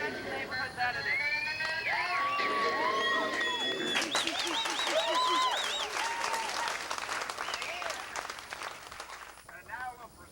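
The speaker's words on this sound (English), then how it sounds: "everybody deserves a big round of applause" A neighborhood crowd at an Elliot Park gathering breaks into sustained, loud applause, with cheers, shouts and whistles over the clapping, before it gradually fades.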